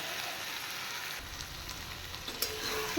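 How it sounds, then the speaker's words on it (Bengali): Spice paste with sesame sizzling in hot oil in a pan, a soft steady crackle with faint scraping near the end, fairly quiet. "এবার হালকা আরেকটু ভাজা ভাজা করব তিল দিয়ে বেশি ভাজবো না"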